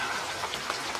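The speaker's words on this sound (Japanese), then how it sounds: "いやまさかこんなに雨降るなんてね。" Heavy rain pours at a campsite as a dense, steady hiss of countless drops, close and constant, with no voices.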